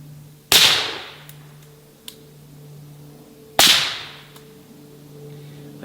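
Two loud, sharp rifle shots fired through a muzzle device, a PTR Vent 3 or Radical Defense LS 5, spaced about three seconds apart, each with a long decaying outdoor echo over a steady low hum.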